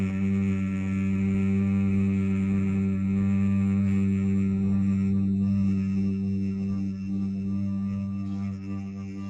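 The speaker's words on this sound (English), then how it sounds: "and then produce a humming sound like this" One person hums a steady, sustained low tone without a break, close and even in loudness throughout.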